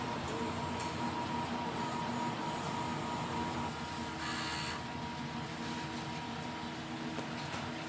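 An inkjet printer running a print head cleaning cycle, a steady whirring mechanical drone with faint tonal hum and a brief brighter burst midway, continuous and close with no talking.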